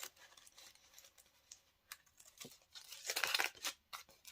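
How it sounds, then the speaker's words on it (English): Sharp scissors trim along the edge of a paper card base, giving faint, close crisp snips and rustles in short bursts, busiest toward the end, with no talking. "take a pair of scissors, paper snips, whatever you have that's nice and sharp, and you're just going to trim right along your card base here"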